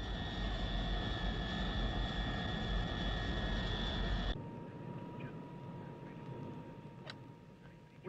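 A propeller airliner cruising in flight toward Baltimore, its engines droning loud and steady for a few seconds before the sound cuts to a quieter cabin hum, with faint chatter.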